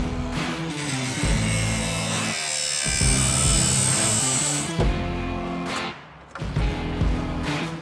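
Power tool cutting a seat mount out of the metal body of a 3rd Gen Toyota 4Runner, a loud continuous grinding, sawing whine with brief drops and restarts near the end.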